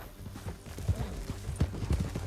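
Horse hooves clip-clop at a steady gallop in Red Dead Redemption 2, close and fairly loud, with rhythmic low thuds over a busy background of game ambience.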